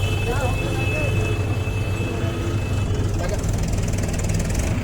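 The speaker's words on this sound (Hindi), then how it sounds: "लगातार इस पुल से बड़े वाहन और छोटे वाहन निकलना शुरू हो गए हैं" Heavy vehicles and bikes cross the newly opened Ater Chambal bridge, still without approach roads, making a constant engine rumble and idling drone with passing motors; a voice talks over the traffic throughout.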